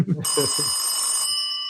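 An old telephone bell rings loud and steady for about a second, a continuous metallic jangle that starts just after a few spoken words and stops abruptly, leaving a brief fading ring.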